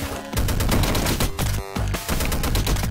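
Rapid bursts of gunfire from bullets shot out of a falling character's feet in the video game Downwell, loud, dense and continuous with short gaps, under no talk.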